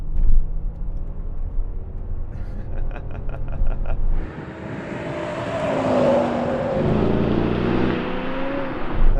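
BMW M5 V10 and rival cars accelerating in a drag race, a low engine rumble at the start building into a loud, rising roar of revving engines pulling away, heard from close by with no talk.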